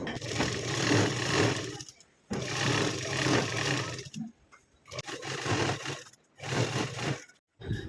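A sewing machine stitches old denim jeans in several quick motor-whirring bursts, each run broken by short pauses, close and fairly loud.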